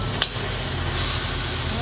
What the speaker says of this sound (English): we're gonna allow this meat here now to stir fry